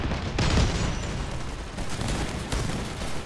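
Rapid gunfire pelts an armored combat vehicle in Crossout, a legged shotgun tank, with dense, crackling bursts of impacts that run steadily for a few seconds, loud and close.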